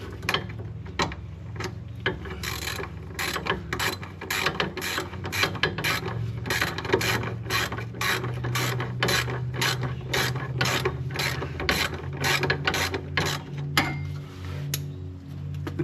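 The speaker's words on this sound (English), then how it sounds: "you want to tighten both sides." A ratchet clicks in quick bursts, tightening sway bar bushing bracket bolts on a 2003 Toyota Avalon, with a rhythmic rasping of the pawl close up and small metallic knocks between strokes.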